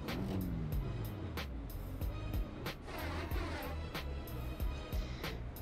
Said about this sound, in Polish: Silnik.